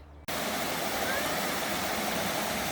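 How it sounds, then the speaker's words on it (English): Steady, loud rush of falling water, a continuous broadband roar from a waterfall close by at a campsite, starting abruptly after a brief quiet moment. "It's the waterfall."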